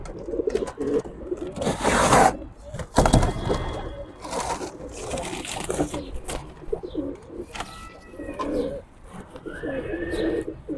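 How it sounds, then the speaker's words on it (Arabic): Pigeons coo in low, throaty bursts with some louder puffing and scraping movement, close by, continuing throughout with no talking. "فرد الحمام مطلع رقبته بره اهوت وبينفخ بره العين"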